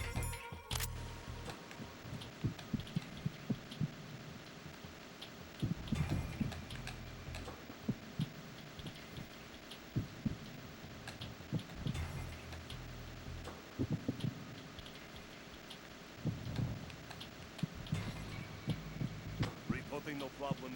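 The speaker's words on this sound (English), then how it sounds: "I feel like that heartbeat sounds a little bit irregular" A slightly irregular heartbeat picked up through a directional microphone in the stealth game Metal Gear Solid 2 thumps in repeated muffled pulses over a steady electronic hum.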